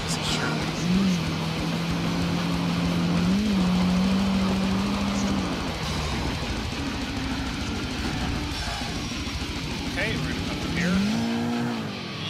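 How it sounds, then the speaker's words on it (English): Car tires spinning and squealing during hard launches in GTA IV, with a sustained engine drone throughout and rising squeal tones near the start and again near the end, fairly loud under faint game background sound. "I mean, it'll still spin its tires."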